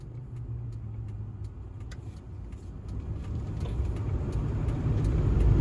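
A car drives along rural highway 2399 in Loei province, Thailand, heard from inside as a steady low road and engine rumble that grows slightly louder toward the end.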